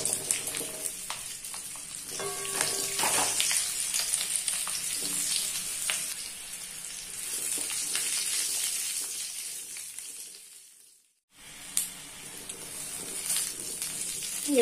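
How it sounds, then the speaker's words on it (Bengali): Fennel seeds sizzle steadily in hot oil for a sweet and sour pickle, a continuous bright frying hiss with faint stirring clicks that briefly drops out near the end before resuming. "তেলটা গরম হয়ে গিয়েছে, এবার মৌরি দিয়ে দিচ্ছি।"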